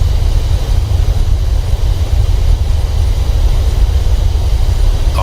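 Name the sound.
Boeing 737-800 thrust reversers on landing, flight simulator video game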